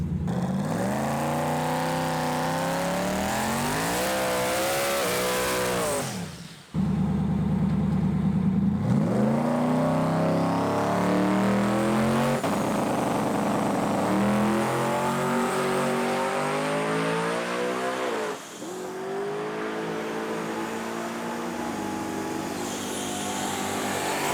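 A drag racing car launches and accelerates hard, its engine climbing steadily in pitch through repeated rising sweeps, loud and close, with a brief cut between runs and no talk.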